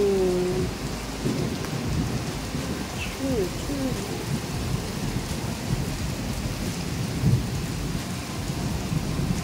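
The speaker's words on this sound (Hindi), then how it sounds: "बादलों के गरजने की आवाज़ आ रही है" Steady rain pours down while low thunder rumbles through the whole stretch, with a faint voice briefly audible beneath the downpour.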